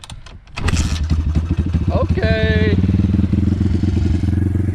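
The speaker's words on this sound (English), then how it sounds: "the bike starts first kick like every time" A small SSR or Thumpstar pit bike engine fires on a kick-start and settles into a loud, steady, close-up putter, with a brief spoken word over the idle.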